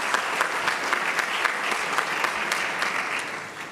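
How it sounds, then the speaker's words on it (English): Steady audience applause for education task force members at a mayors and business leaders breakfast, a dense, even wash of clapping from a large crowd that tapers slightly toward the end. "So please give them a round of applause"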